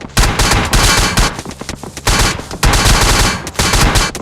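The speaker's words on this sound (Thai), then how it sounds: "มีคนยิงกูแล้ว" Rapid bursts of automatic gunfire in the mobile battle royale game PUBG Mobile, loud and dense, firing in repeated volleys with short gaps across the whole stretch.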